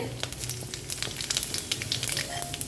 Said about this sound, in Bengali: এবার এই তেলের মধ্যে আমি ফোড়ন হিসেবে যা যা দেবার সেগুলো দিয়ে দেবো দিয়ে দেবো হচ্ছে কয়েকটা তেজপাতা কিছুটা পরিমাণ গোটা জিরে